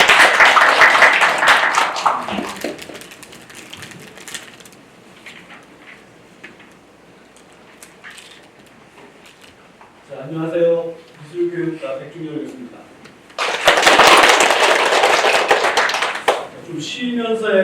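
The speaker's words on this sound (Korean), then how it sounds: "박수 부탁드리겠습니다." Applause bursts out from an audience at a Korean university performance forum, loud and dense at the start, then after a stretch of quiet and talk a second strong wave of clapping swells near the end.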